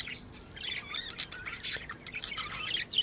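Many budgerigars chirp and twitter in a bird farm room, a busy, continuous chorus of high chirps at moderate distance with no talking.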